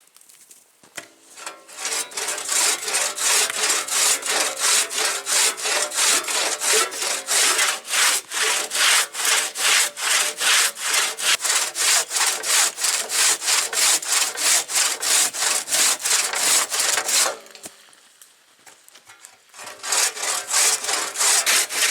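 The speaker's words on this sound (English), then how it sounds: "still got to use the handsaw." A handsaw cuts through wood at a snowy winter camp in fast, regular back-and-forth strokes, loud and close, pausing briefly near the end before resuming.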